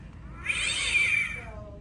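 A black cat Halloween decoration in a store gives one drawn-out, electronic-sounding meow, close and fairly loud, rising and fading over about a second.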